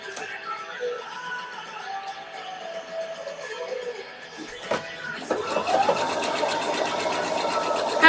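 A sewing machine stitches a seam on a Victorian evening dress: quieter motor hum and handling at first, then a faint click, then a louder, rapid, steady run of stitching close by.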